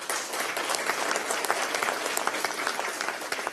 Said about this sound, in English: Please honor guard a round of applause, please.